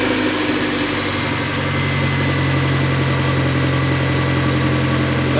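A 2001 Honda CR-V with a 2.0L engine idles steadily, a continuous, slightly noisy hum with a constant low drone and mechanical chatter, close and alone.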